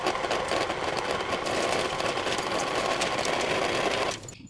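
Electric mixer creaming softened butter and cream cheese, a steady loud motor whir with a busy beating texture that runs unbroken for about four seconds, then cuts off abruptly at the end.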